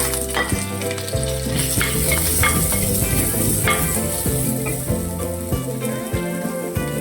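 Garlic and chopped big and small onions fry in hot oil for a Kerala chicken thoran, a loud crackling sizzle with regular spoon stirs and scrapes close by, no talking.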